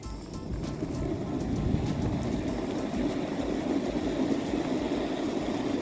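Wind blowing across a microphone fitted with a homemade windscreen on a mild day outdoors, a steady low muffled rumble that holds fairly constant from start to finish, with no talking.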